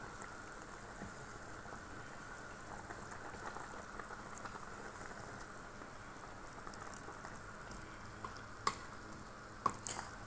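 Eggplant and garlic frying in a pan: a steady, faint crackling sizzle with soft popping that runs throughout, plus a few sharper spits toward the end.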